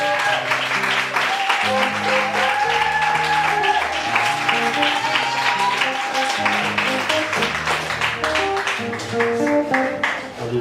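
A church congregation claps and cheers steadily for Jesus throughout, with music playing underneath and voices mixed into the continuous applause.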